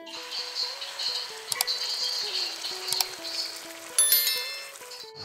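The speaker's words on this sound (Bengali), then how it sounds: "এইবার পেস্টটা ঢেলে দেবো তেলে।" Coriander and yogurt paste hitting hot oil in a pan, a steady close sizzle and hiss with crackling bursts, briefly flaring louder toward the end.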